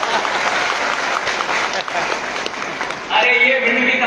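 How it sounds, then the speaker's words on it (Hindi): Audience applause at a public foundation-stone and development event in Bhind, a crowd clapping steadily for a few seconds before a speaker's amplified voice cuts in over the tail of it. "अरे ये भिंड की ताली थोड़ी"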